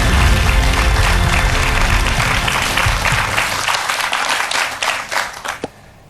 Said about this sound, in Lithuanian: plojimai publikos salėje taip pat jums